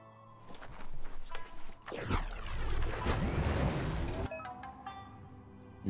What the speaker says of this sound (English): You found some rough waters.